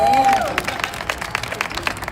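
Applause and cheering from a crowd at an outdoor Black Pride flag raising at Philadelphia City Hall, dense clapping sustained over two seconds, with a brief whistle or tonal sound at the start.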